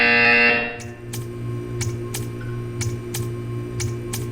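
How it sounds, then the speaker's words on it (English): Buzzer in the video game Portal 2, a loud continuous electronic buzz that cuts off after about a second, followed by a steady hum with a regular series of sharp clicks. "You will hear a buzzer."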